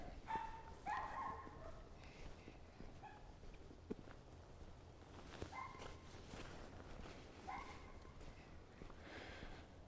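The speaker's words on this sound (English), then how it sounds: "Dog got left behind and wants to go. A little Yorkie or something." A small Yorkie left behind barks in short yappy bursts at moderate distance on a town street walk, the barks spaced out over steady outdoor background noise with footsteps.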